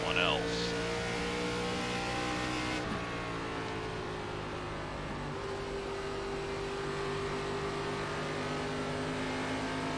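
Stock cars race in an iRacing NASCAR ARCA Series event at Iowa Speedway, with loud, continuous engine drone and shifting revs from several cars close together.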